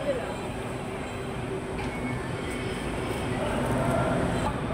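Inside a light rail LRT train travelling in Pasay, Philippines, a steady rolling rumble and rattle fills the car, loud and continuous, with faint voices mixed into the noise.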